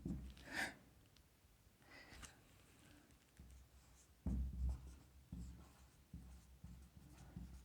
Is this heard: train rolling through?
no